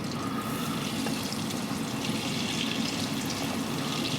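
Butter melting in a pot to start a roux for gumbo gives a steady, close sizzling hiss with a faint liquid, splashy texture, continuous throughout, with no talking.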